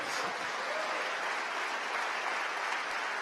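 A church congregation applauds together in praise during a sermon, dense continuous clapping close and steady throughout.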